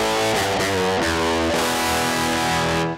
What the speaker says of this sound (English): So you're completely bypassing the cab sim.